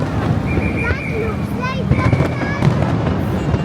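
Fireworks burst and crackle at a pyromusical competition, with sharp pops, whistling rising tones and distant booms over crowd chatter and wind noise, with people talking throughout.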